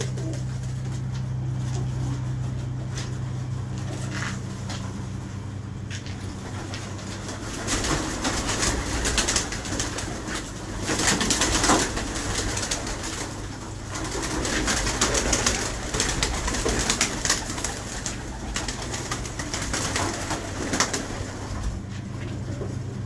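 Pigeons cooing in a fancier's loft, repeated low soft coos overlapping at a close distance, with occasional wing flutters and a steady background hum.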